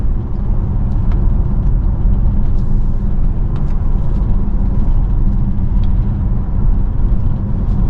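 A 2014 Audi Q7 3.0 TDI V6 quattro with Tiptronic gearbox drives along a country lane, giving a steady low rumble of engine and road noise heard from inside the cabin, with no talk.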